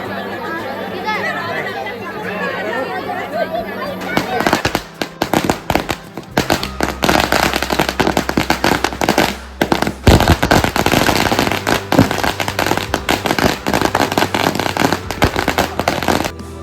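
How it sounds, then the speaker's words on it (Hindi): Firecrackers at a Ravan Dahan festival burn off in a dense, rapid string of sharp crackling bangs, loud and continuous for most of the stretch after a calmer opening, with a crowd chattering underneath throughout. "पटाखे डाले ना, पटाखे जाओ।"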